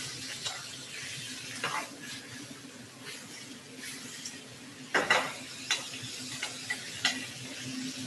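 Pork seasoned with salt and pepper stir-frying in a pan with garlic, a low continuous sizzle broken by occasional scrapes and clinks of a utensil against the pan, no talking over it.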